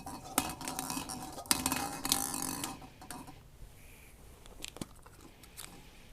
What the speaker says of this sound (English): we're going to draw one of the spheres from pot B